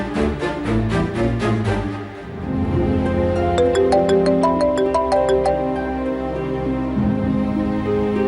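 A mobile phone ringtone in a Telugu TV drama scene plays a loud, bright melodic tune of repeating electronic notes for several seconds, with no one speaking over it.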